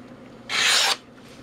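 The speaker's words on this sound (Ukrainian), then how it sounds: "Тепер пробуємо ніж 6-дюймовий м'ясний." A Tramontina 6-inch meat knife slicing through food, a single close, bright rasping cut lasting about half a second amid quiet room tone.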